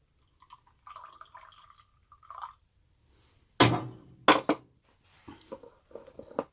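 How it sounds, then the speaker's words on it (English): Coffee is poured into a mug aboard a narrowboat, a short sharp liquid splash in two quick bursts among faint clinks and drips, close and alone with no talk. "Pour the coffee into the mug."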